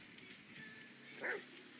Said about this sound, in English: Got a dog with her.